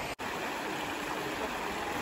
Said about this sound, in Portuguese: É outra parte do rio.